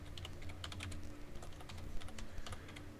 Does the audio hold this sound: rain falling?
no